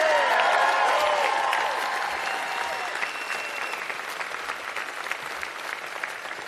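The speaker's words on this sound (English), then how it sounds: "Let's give them one more round of applause." Audience applause at a political campaign rally, a loud crowd clapping with a few cheers early on, then settling into steady, slightly softer clapping that continues to the end.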